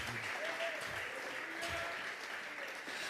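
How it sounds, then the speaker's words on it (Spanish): A church congregation claps during a Spanish-language Bible doctrine service, a short burst of continuous applause with voices faintly mixed in. "vamos a regalarle ofrenda de palmas al Dios de la gloria."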